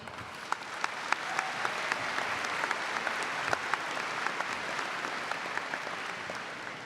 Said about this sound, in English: could you please all join me in giving a big round of applause to everyone that is here with us today?